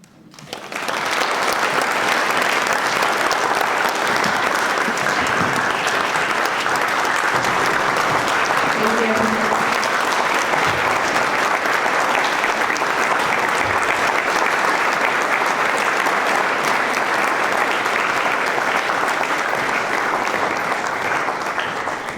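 A large audience at an educator recognition awards ceremony applauds its honorees with sustained, dense clapping that rises quickly and stays loud and even throughout, with faint murmuring voices underneath.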